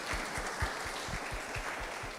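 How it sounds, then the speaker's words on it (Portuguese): Audience applause at a religious talk, moderately quiet and fairly steady, with rhythmic clapping beats running through the short burst. "Vamos aplaudir."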